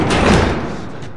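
A door being barricaded in The Last of Us video game: a single loud, close heavy thump and scrape of wood, decaying quickly, with no voices.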